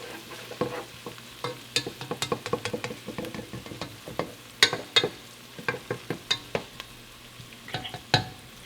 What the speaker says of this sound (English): keep an eye on your onions and your garlics